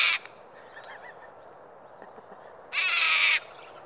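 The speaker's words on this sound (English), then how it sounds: "This must be the king parrot." A king parrot giving two loud, harsh calls outdoors, one at the start and a longer one near the end, with faint bird sounds between.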